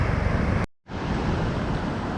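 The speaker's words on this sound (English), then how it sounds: "So the waves ended up being a little bit bigger than what I'm comfortable snorkeling in" Ocean waves break and wash onto a beach in broad, steady surf noise, briefly cut to silence partway through before the roar of the water resumes.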